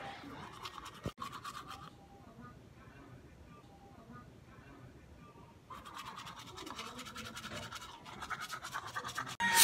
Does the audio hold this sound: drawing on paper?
no